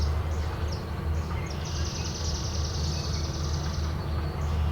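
A red-winged blackbird's song rings out beside a lake, a bright buzzy trill lasting a couple of seconds at moderate distance over a steady low background hum of wind and water.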